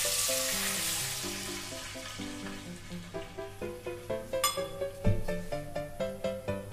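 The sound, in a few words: cup of water added to a hot pan, sizzling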